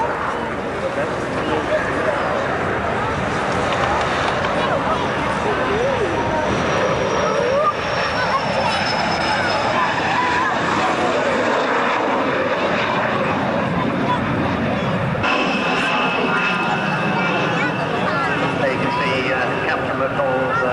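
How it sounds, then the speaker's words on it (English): A Thunderbolt aircraft's engine roars steadily for the whole stretch as it climbs at the 1991 RAF Valley air show in Anglesey, with muffled voices mixed in beneath the drone. "Demonstrating the excellent climb of the Thunderbolt."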